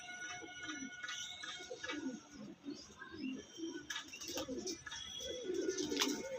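Pigeons at a loft coo softly and repeatedly, with occasional faint chirps, in a quiet setting.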